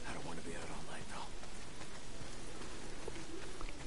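Steady rain pours down in the video game Days Gone, a dense, even hiss of falling drops that stays constant and fairly close, with faint voices passing over it at times.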